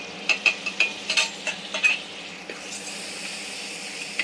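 Tomatoes going into frying ginger-garlic masala for a mutton curry, with a burst of clinking spoon strokes against the pan over a soft sizzle that settles into quieter frying.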